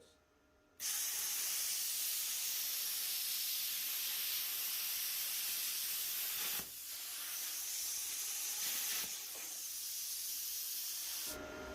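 A YESWELDER CUT-55DS plasma cutter slices through scrap metal with a loud, steady roaring hiss that starts abruptly, briefly dips midway, resumes, and cuts off near the end, close to the listener.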